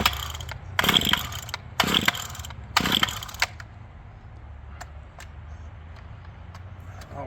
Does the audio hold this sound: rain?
no